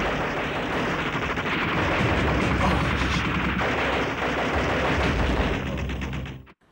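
Sustained gunfire from a televised action serial, Shaktimaan, roars loudly and continuously, dense overlapping shots and blasts running for several seconds before cutting off abruptly.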